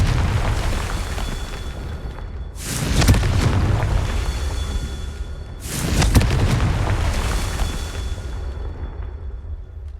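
Two booming blasts from the Confringo spell in Hogwarts Legacy, each a sudden loud explosion that trails off into rumbling, spaced a few seconds apart over steady game ambience.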